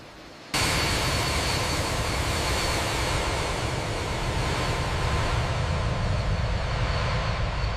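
Antonov An-72 Coaler jet engines during takeoff, a sudden loud roar that holds steady as broadband engine rumble and whine, close and continuous with no talk.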